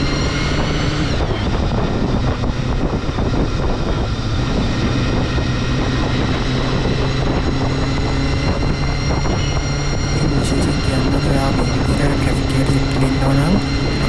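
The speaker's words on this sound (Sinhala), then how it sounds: "අවශ්‍ය විදිහට බයික් එක රෙව් කර කර යන්නවා" The engine of a Honda CBR 250RR MC22 motorcycle hums continuously during a night ride in road traffic, its steady drone blended with rushing wind noise.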